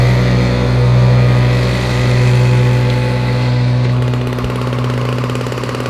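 Idling of an 80cc motorbike engine, a steady droning hum with a strong low tone and a gently pulsing rhythm, close and continuous throughout.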